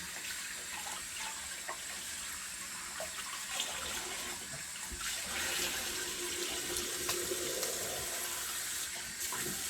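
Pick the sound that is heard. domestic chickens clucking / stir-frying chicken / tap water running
tap water running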